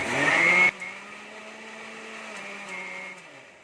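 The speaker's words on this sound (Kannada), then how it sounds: "ಇದನ್ನು ರುಬ್ಕೊಂಡಿದ್ರೆ ಇದಕ್ಕೆ ಇನ್ನೊಂದು ಸ್ವಲ್ಪ ನೀರು ಹಾಕಿ ಮತ್ತೆ ಮಿಕ್ಸಿಗೆ ಹಾಕ್ಕೊತೀನಿ" Mixer grinder whirs loudly as it blends chicken gravy paste with added water, then cuts off abruptly after under a second, leaving a faint steady hum and a fainter whine trailing off.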